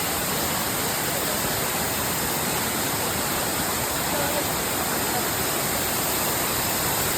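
Kulimagodu waterfall in a hidden forest spot, its broad, constant roar of falling water filling the scene evenly from start to finish with no break.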